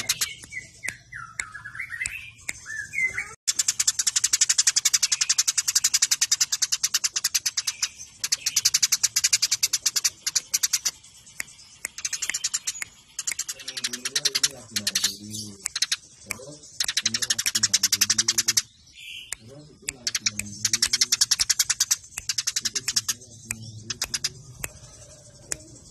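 Recorded sparrows (burung gereja) chirping densely and rapidly, a busy layered chatter of many birds close and loud, with fast tweeting bursts, brief gaps and some lower warbling calls mixed in.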